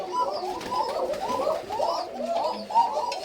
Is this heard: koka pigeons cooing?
yes